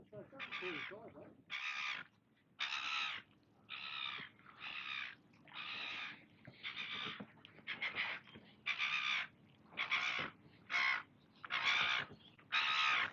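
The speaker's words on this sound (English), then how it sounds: "Sounds like there's a seagull inside that." A seagull trapped inside a structure near Lake Macquarie calls again and again, about a dozen harsh, echoing squawks in a fairly even rhythm, each roughly half a second long, over a quiet background.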